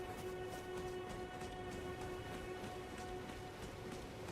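Steady, soft rainfall in the video game Elden Ring, a constant even patter with a faint underlying hum, with no voices over it.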